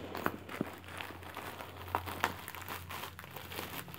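A mail package is torn open one-handed, giving close crinkling and rustling of packaging with a few sharp snaps and rips spread across the moment, and no voices.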